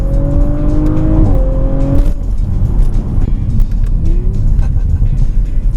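An Audi RS5 sports car engine revs hard and accelerates loudly up close, its pitch climbing and then dropping at a gear change, with steady road noise underneath.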